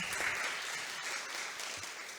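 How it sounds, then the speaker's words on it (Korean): Sustained applause from a seated audience for a presenter at a food allergy program results meeting, steady dense clapping throughout, moderately distant. "김신정 선생님께 다시 한번 박수 부탁드립니다"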